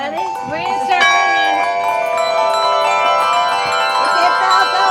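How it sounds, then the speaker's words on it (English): A church bell rings repeatedly in Ontario, New York, for the Wayne County bicentennial, loud and close with long ringing overtones, while people talk nearby. "that bell going?"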